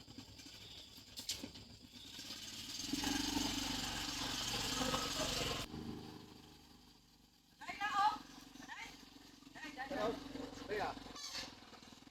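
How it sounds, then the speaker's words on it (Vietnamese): A motorbike engine runs and idles nearby, a steady mid-pitched drone with some rising revs, while people talk over and between the engine noise. "Xe máy"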